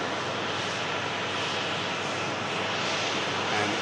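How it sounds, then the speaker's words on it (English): A plane on its takeoff roll from runway 23 left, departing toward Milan, a steady broad roar of aircraft engines that holds loud and continuous throughout, rising slightly toward the end, with no talking. "And it's now on the takeoff roll from 2-3"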